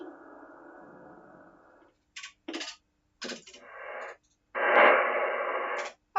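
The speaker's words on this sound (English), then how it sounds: "I have to calibrate the antenna, which you will hear dropping down to 8 megs" Bursts of radio static and tuning noise as an amplifier's antenna is calibrated down to 8 MHz, broken by short silences, with a dense hissing tone at the start and end.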